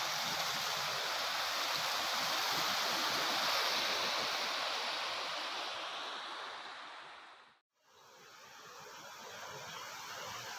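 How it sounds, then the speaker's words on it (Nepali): Small mountain stream known as Rungdung, near the Rangeet river, rushing loudly and close with a dense continuous wash of water, dipping briefly to near silence before resuming, no voices. "यो हो हाम्रो सानो खोला।"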